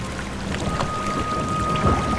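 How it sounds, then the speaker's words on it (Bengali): Water sloshes and splashes softly around a small boat being rowed, under a steady hiss of rain. "বেশ খুশি মনেই তাপস নৌকা বাইতে শুরু করলো।"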